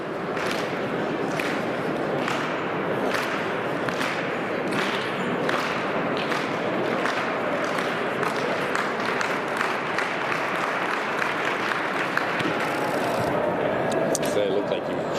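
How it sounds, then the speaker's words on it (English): A crowd at an indoor high school track championship claps in a steady, even rhythm for a long jumper, each clap a sharp, loud beat about twice a second that continues throughout. "Likes to get a little clap going."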